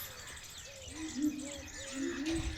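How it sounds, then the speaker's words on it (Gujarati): Birds call in short, repeated chirps and coos against a quiet village background, with a faint voice underneath. "મસ્ત કલરવ અવાજ આવે."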